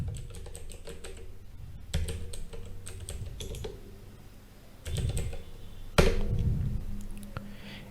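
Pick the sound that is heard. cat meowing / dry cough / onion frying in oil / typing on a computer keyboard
typing on a computer keyboard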